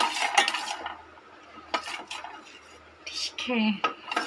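A small spoon stirs a mixture in a pot for laddu, giving close metallic clinks and scrapes against the pot in bursts with quiet gaps between.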